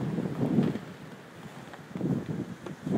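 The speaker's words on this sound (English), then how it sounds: "Wind's blowing about 25 miles an hour" Strong gusting wind during a heavy blizzard whiteout in Fairbanks, blowing around 25 miles per hour through the woods, rumbles and buffets the microphone in uneven surges, with no voices.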